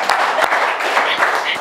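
An audience at a political speech breaks into clapping, a short burst of scattered, moderately loud claps under crowd noise.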